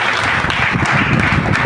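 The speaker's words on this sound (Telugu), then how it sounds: "నమ్మితే గట్టిగా చప్పట్లు కొట్టి దేవుని స్తుతిద్దాం." A church congregation claps loudly in praise of God, a dense, continuous wash of applause filling a hall.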